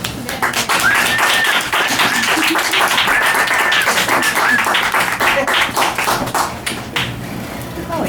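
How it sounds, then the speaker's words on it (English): Audience applause at an urban-space museum event, a steady dense wash of clapping that fills the whole stretch at close range, with a few voices and whoops cutting through. "Shattering applause died down."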